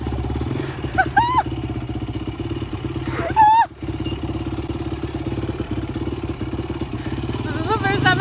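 A dirt bike engine chugs steadily during a beginner's first ride, with a rhythmic, close putter and a brief louder thump, while people talk and exclaim over it.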